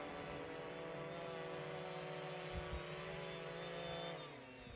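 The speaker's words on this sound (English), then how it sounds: "here's the drone returning to home, turned around, facing back the way it came" An AEE Condor A22 fishing drone flies back toward the listener with its rotors giving a steady tonal buzzing whine that holds for several seconds, then dips in pitch near the end.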